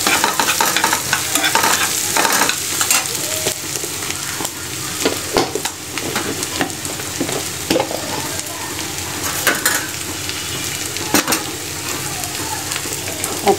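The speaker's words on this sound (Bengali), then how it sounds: "পেঁয়াজটা ভাজা ভাজা হইতেছে।" Onions fry in a pan with oil for a Khasi murgi curry, giving a loud, continuous sizzle with repeated scraping stir strokes throughout and no talking.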